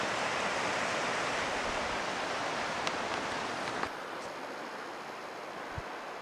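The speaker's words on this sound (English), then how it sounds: "There's a creek coming down here." A creek flowing down into a river sounds as a steady broadband rushing wash, fairly even throughout and a little quieter in the last seconds, with no voices.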